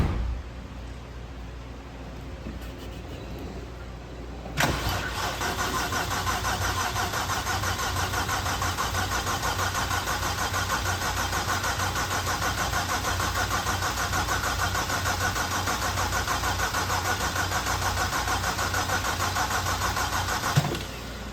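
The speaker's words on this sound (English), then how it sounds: "I'm going to prime the turbos for first startup. So I'll give it like 2 cycles, let the oil run through them" A turbocharged BMW Z4 engine cranks over without firing to prime the turbos with oil, a loud, continuous mechanical churn running close for about sixteen seconds after a quieter lead-in, with no talking.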